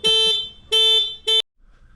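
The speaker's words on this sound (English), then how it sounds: "He likes beeping the horn." Three honks of a Yamaha XT 250 motorcycle horn pressed by a child: two longer beeps then a short one, loud and close, with no talk over them.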